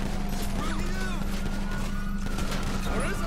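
Rapid, continuous gunfire from Grand Theft Auto V: loud overlapping shots and bursts fill the whole stretch with no pause.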